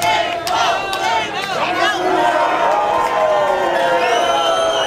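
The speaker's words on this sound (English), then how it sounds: "Let the crowd talk for us." Wrestling event crowd roaring, cheering and chanting loudly and continuously, with whoops and shouts rising over the dense wall of voices.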